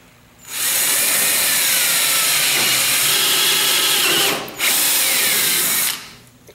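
A portable power drill with a 1/8 inch bit bores out a broken bolt, whirring loudly and steadily, pausing briefly once before revving again and winding down, with no talking.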